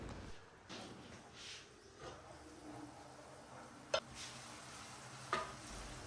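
Onions fry softly in oil in a pan, a quiet, steady sizzle broken by a few sharp clinks of a utensil against the pan.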